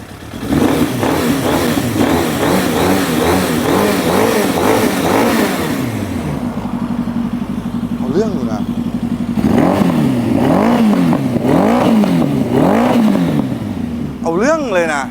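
A 1992 Suzuki GSX-R1100 motorcycle engine nearby, idling with a steady throb and then revved repeatedly in rising and falling surges, loud throughout.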